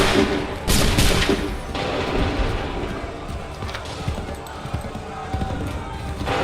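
Musket volley in Assassin's Creed III, a loud crackling burst of massed shots near the start over a dense battlefield din, followed by scattered thuds and distant noise.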